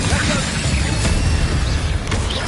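An Incendio fire spell in the video game Hogwarts Legacy: dense, noisy combat effects with whooshing bursts and a couple of sharp impacts, loud and close throughout.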